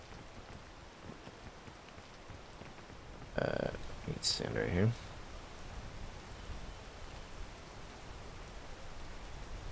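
Rain falls steadily in a video game, a soft continuous hiss beneath a person speaking briefly, with a short louder burst of game sound partway through.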